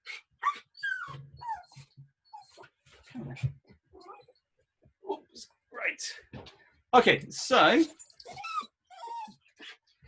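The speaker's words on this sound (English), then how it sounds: "the weird noise you can hear right now is my mum's dog" A dog whimpers and whines in high, wavering cries indoors at home, rising and fading intermittently while a person talks nearby.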